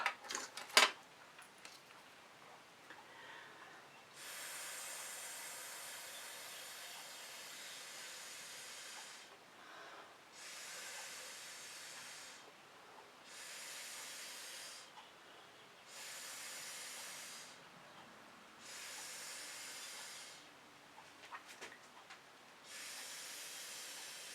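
Air is blown through a straw over acrylic paint in a fluid pour, making a series of soft breathy hisses in repeated bursts of a few seconds each, separated by short pauses.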